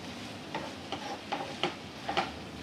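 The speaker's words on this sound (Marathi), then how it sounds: "खोबरं टाकूया, सगळी मिक्स करून घेऊया." Tendli sabji with grated coconut stirred in a pan, with a spoon clicking and scraping against the metal in soft, irregular taps over a faint sizzle.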